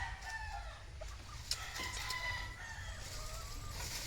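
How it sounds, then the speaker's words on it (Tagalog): Fighting roosters kept on a farm crow and cluck at a moderate distance over a steady low rumble of background noise, with no talking. "pakita ko sa inyo ang aming mga alagang manok na panabong"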